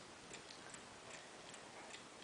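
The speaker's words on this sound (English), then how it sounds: "in the back, you find the escapement, which you're hearing ticking away" A Bulova mechanical chime clock's escapement ticks away steadily in a quiet room, its soft, even, regular beats close by with no voices.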